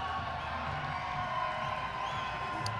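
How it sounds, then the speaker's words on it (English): A crowd of fans at a roller derby championship game cheers and whoops in the background, a steady, fairly faint roar of many voices that stays even throughout. "And the crowd goes wild for stuff."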